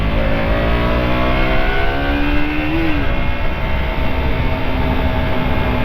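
A 2022 KTM RC 200 single-cylinder motorcycle engine hums steadily under way with a quiet stock exhaust, a smooth continuous drone with a brief rise in pitch partway through, mixed with wind and road noise.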